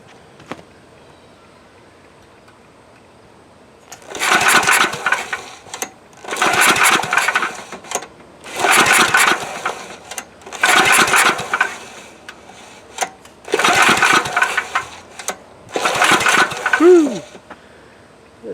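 A Coleman Powermate Maxa 5000 ER generator is pull-started repeatedly with its choke on, giving six loud recoil pulls at regular intervals, each a harsh whirring burst, with no catch and quiet between pulls.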